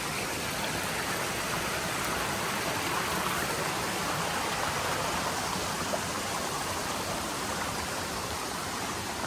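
Steady rushing water, like a small waterfall or fast stream, fills the scene with a constant, even hiss and splash.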